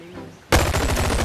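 A sudden loud burst of rapid automatic gunfire from weapons in the BONELAB VR video game erupts after a quiet half second and keeps hammering steadily to the end.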